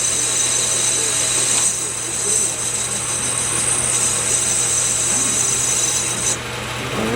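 A lathe bores a steel wheel rim in light passes, giving a steady loud whirring hum with fine scraping texture and a constant low drone, close and without talk.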